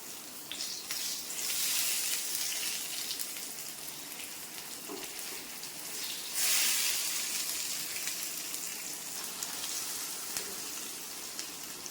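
Brinjal (eggplant) slices fry in a pan over a medium flame, giving a steady, close crackling sizzle throughout with a brief louder burst partway through.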